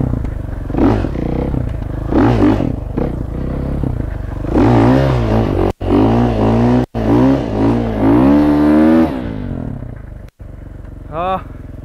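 A motorcycle's throttle is blipped repeatedly during wheelie attempts, loud and close, each rev climbing and falling in pitch, with a few abrupt cutoffs and a last short rev after a pause.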